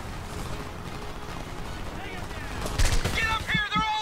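Gunfire in the video game Homefront, a dense rattle of shots under continuous battle noise that swells louder in the last second with sharper bursts and ringing tones.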